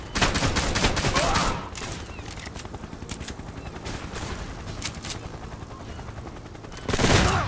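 Rapid gunfire from the Turkish first-person shooter Zula: dense bursts of automatic shots crackle nonstop, heaviest at the start and again near the end, with scattered single reports in between.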